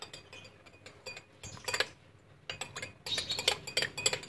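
Spoon clinking against a glass while stirring butterfly pea flower milk made with sweetened condensed milk, a series of bright, close metallic taps in two bursts separated by a short pause.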